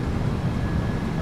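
Thrust reversers roar on a PMDG 737-800 rolling out after landing at San Francisco in Microsoft Flight Simulator 2024, a steady, loud broadband rumble with no break through the whole moment.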